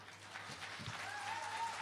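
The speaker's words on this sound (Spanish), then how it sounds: "el segundo aplauso no me tenía que costar tanto remarlo" An audience in an auditorium applauds steadily, a dense wash of clapping at moderate level that holds even throughout, with a faint tone and murmur underneath.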